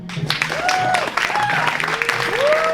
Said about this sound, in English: So now for some applause here.